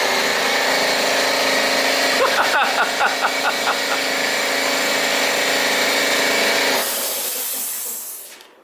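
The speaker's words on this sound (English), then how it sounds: "for no reason the compressor just cut on" An air compressor kicks on in a home garage during hydraulic hand brake work, a loud steady mechanical drone with a hiss and faint clicks partway through, running for several seconds before cutting off and fading near the end.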